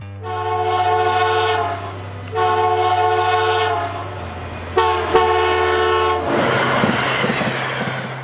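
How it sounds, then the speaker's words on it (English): Loud train horn blasts in a long-long-short-long crossing signal pattern, deep and close, followed by rumbling rail noise as the train passes. "the signal is 2 long, 1 short, and a long blow of the horn."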